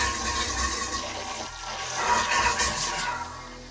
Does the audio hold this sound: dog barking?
no